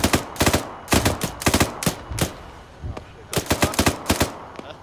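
Rapid gunfire bursts in a Valorant match, loud sharp cracks in clustered volleys with short pauses between, some single shots spaced apart.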